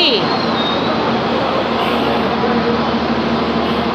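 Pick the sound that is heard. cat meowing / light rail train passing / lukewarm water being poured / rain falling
light rail train passing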